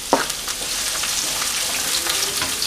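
Chopped onion hitting hot oil with a sharp burst, then a steady close hiss of frying with faint stirring scrapes, for a Malabar stuffed chicken.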